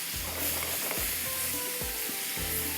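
Onion, green chillies, capsicum and carrot fry in butter with a steady close sizzle and hiss, broken by a few soft low thumps of stirring.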